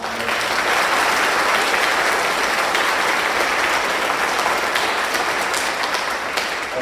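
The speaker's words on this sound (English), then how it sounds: "can we get a round of applause for our veterans in the house?" At a high school Veterans Day ceremony, a crowd applauds its veterans with loud, dense clapping that holds steady for the whole stretch.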